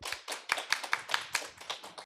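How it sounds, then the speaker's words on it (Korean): A small audience at a startup consultation event claps for a speaker being introduced, the clapping coming as distinct, separate claps in an uneven rhythm of about two seconds, close and fairly quiet, with no talking. "박수로 함께 해주시죠."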